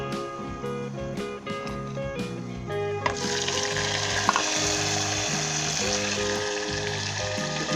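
Onion, garlic and ginger frying in a pan for Punjabi moong maash dal, with tomato added partway through; a steady loud sizzle swells as the tomato goes in, with occasional stirring clinks and no talking.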